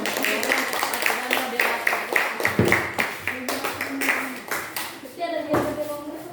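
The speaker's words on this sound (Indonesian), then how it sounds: "Tepuk tangan yang meriah dulu." Classroom students clap lively and fast in a rough rhythm, the claps bunching into quick bursts, with children's voices chattering underneath.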